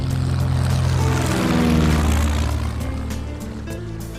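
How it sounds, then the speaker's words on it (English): A small propeller airplane flying over the Amazon jungle toward a carved-out runway. Its engine makes a loud, continuous droning hum that swells and then slowly fades, with no voices heard. "To get there, you can fly in a little airplane into a carved-out runway in the jungle."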